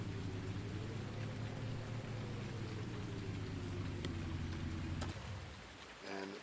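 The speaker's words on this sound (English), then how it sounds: "All right, the rain's falling." Steady rain pours down on surfaces in the farming game Farming Simulator 19, a dense constant hiss that runs unbroken and then drops away near the end, with no talking.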